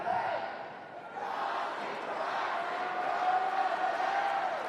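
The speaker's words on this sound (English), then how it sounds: "their fanatics are on their feet and getting the crowd going" Tennis crowd at the Brisbane International men's final cheering and shouting, a broad, continuous roar of many voices at a distance with chanting tones rising through it.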